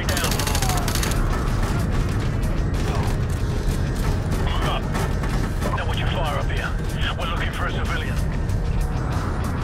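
Rapid gunfire and mechanical weapon clatter in Call of Duty: Modern Warfare Remastered, a continuous loud rattling mix with clicks and creaks, with voices heard in the scene.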